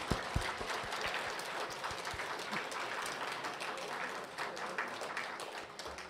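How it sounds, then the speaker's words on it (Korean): Audience applause at a Korean Buddhist dharma talk honouring an award recipient, a dense steady patter of clapping from many hands lasting throughout, moderately loud with a few sharper claps near the start. "그래서 일단 박수를 한번 쳐드립니다."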